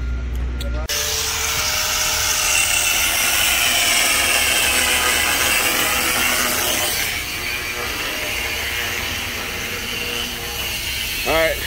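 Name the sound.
cutting a steel bar for truck half fenders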